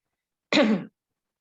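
A woman gives a single short cough, sharp and close, followed by silence.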